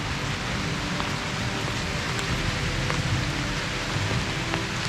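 Heavy rain pouring steadily outdoors on a hot day, a dense, even wash of drops drumming on surfaces with scattered sharper splashes, constant and loud throughout with no voices.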